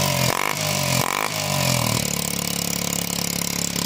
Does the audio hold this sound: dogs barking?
no